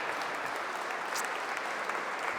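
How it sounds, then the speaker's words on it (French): A church congregation applauding the Lord during a worship service, a steady wash of many hands clapping together, fairly loud and continuous throughout with no voices rising above it. "donne une grande acclamation au Seigneur pour lui dire merci"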